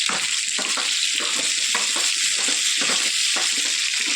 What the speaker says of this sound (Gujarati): એમાં આપણે સાદો વઘાર કરીએ. એના અંદર લીલું લસણ અને ટૂંકું લસણ અને મરચાં.